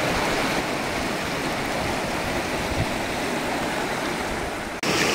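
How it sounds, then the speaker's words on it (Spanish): Steady, loud rush of a river flowing along a mustard-yellow stream trail near a mine, a constant broadband roar of water that cuts off briefly near the end. "y este río tan lindo, hay que cruzarlo, no sabemos cuán profundo está."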